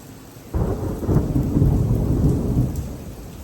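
A nighttime thunderstorm on a muddy farm: quiet rain, then a deep rumble of thunder breaks in and rolls on steadily beneath the continuing downpour.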